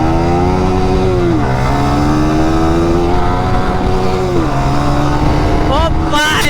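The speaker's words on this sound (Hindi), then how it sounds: "अभी चला रहे हैं हम इसका बाइक और ये मेरा चला रहा है।" A Yamaha R15 or Pulsar 220 motorcycle at speed: the close, loud engine tone climbs and drops through repeated revs and gear changes over heavy wind rush, with voices mixed in.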